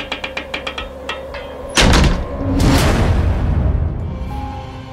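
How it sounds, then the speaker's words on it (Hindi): A door swings shut slowly on its own. Faint creaking ticks come first, then a heavy whooshing thud, followed by a loud rumbling swell that fades off. "दरवाजा उसके सामने अपने आप धीरे धीरे बंद होता गया।"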